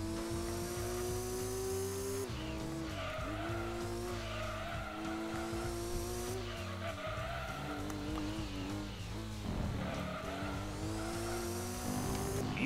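Nissan GT-R racing in Gran Turismo 2, with a loud, steady engine drone rising and falling through gear changes and tyre squeal throughout, and no talk.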